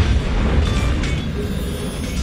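A warship sinking in the naval battle game World of Warships: a loud, sustained low rumbling boom with broadband roar that holds steady across the whole moment, dense and close.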